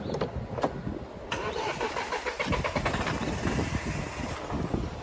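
A Mahindra Bolero Neo engine with a sudden starting fault is cranked and catches into a loud, close, rough running rumble that continues steadily, with people talking outdoors over it.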